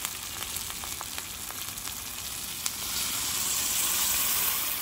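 Spiced fried okra crackles in a hot pan, then water poured in turns it into a louder, broader hiss that holds steady to the end; no one speaks.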